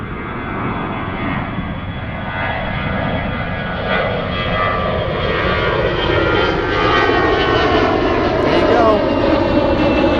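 An Air Europa jet airliner at Zurich airport gives a steady, loud broadband engine roar that slowly swells over about ten seconds, with faint voices audible beneath it.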